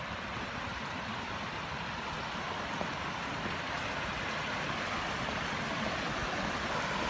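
A small waterfall on the Osaka Castle grounds spills into a pool, making a steady, even rush of water that stays unbroken and fairly close throughout.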